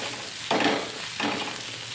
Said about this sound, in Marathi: याला अगदी मस्तपैकी ह्या तेलावरती भाजून घ्यायचा आहे